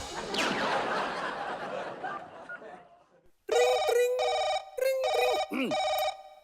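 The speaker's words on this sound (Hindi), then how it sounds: "ये लगाएंगी आपको फोन" A telephone bell rings in repeated bursts of loud, bright trills broken by short gaps, following a stretch of laughter and chatter from a TV show audience.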